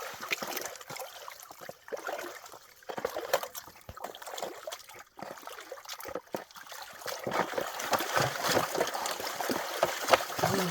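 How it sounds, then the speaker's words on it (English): Gold panning in a tiny creek puddle, with gravel and water sloshing and swirling in a pan in irregular bursts, soft trickles and gritty scraping that are close and moderately quiet. "It's been very challenging to pan a lot of material in a little tiny puddle."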